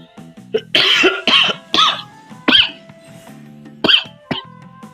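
A person coughs repeatedly in a series of harsh, throaty bursts with short gaps between them, close and loud.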